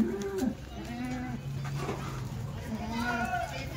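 Kathewadi goats bleat in a pen at a livestock sale, a few wavering calls rising over a busy background while people talk nearby.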